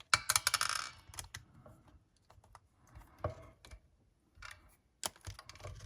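A small guitar pickguard screw from a 1991 Fender American Standard Strat drops to the floor with a few light metallic clinks and ticks, quiet and close, amid scattered small handling clicks.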